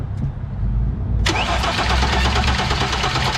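A 2016 Hyundai Genesis 3.8 engine after an injector replacement: a short starter crank, then the engine catches abruptly and settles into a steady, close idle.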